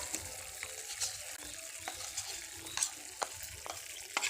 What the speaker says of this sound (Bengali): গুড়গুলো দিয়ে দেব পানির মধ্যে।